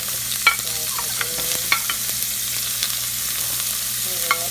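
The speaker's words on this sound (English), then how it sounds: "now I have the pan already ready to saute the vegetables" Vegetables sizzle steadily in a hot pan before any meat goes in, with occasional sharp clicks of stirring over a continuous frying hiss.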